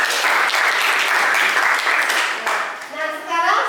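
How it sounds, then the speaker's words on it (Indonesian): Students in a classroom applaud group 4 with lively, sustained clapping, while voices talk over it as the applause fades near the end. "tepuk tangan untuk kelompok 4"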